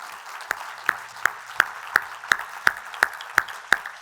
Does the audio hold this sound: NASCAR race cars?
no